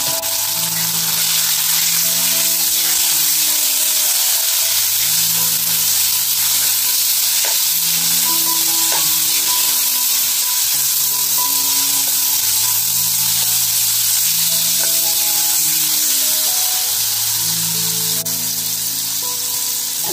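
Tomatoes, salt and spices sizzle steadily in hot oil for a Konkan-style wet cashew vegetable dish, a loud continuous crackling hiss with occasional stirring and soft music playing underneath.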